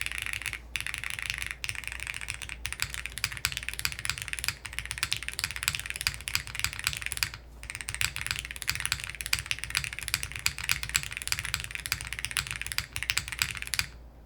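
Fast, continuous typing on a mechanical keyboard fitted with MX2A switches and foam, a dense close-up patter of muted clacky keystrokes with no talking.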